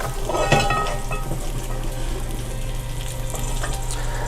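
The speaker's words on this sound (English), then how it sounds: "I'm just pressing every aspect, and I'm just letting it sizzle" Food sizzles steadily in a hot pan, crackling and spitting close by, with a few utensil scrapes and stirring sounds over a low hum.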